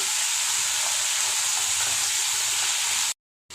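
Chopped tomatoes frying in a pan for a curry gravy give a steady, close, loud sizzling hiss that runs without a break, then cuts off abruptly near the end.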